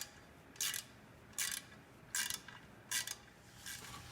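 Ratchet wrench loosening the intake plenum bolts on a Pontiac Fiero GT: five short, evenly spaced bursts of quick ratcheting clicks, close and fairly quiet, with no talk.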